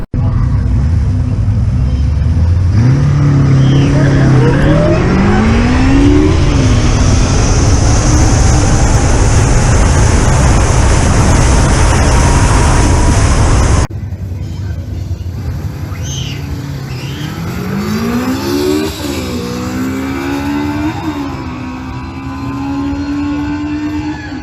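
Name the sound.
Zero FX electric motorcycle riding and accelerating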